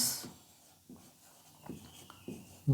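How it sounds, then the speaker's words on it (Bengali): A pen or chalk scratches out short strokes across a writing surface in a quiet room, in faint bursts separated by brief pauses. "চলো একটা সেন্টেন্স লিখি।"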